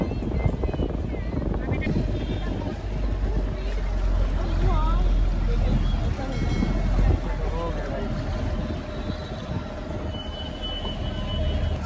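Steady engine rumble and wind buffeting from a boat ride on the harbour near the Gateway of India in Mumbai, loud and continuous. Voices talk faintly underneath.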